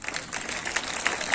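Schoolchildren and guests at a school function give a dense, continuous round of applause for the headmaster. The clapping is steady and fairly close, with a few sharper hand strikes rising from the wash.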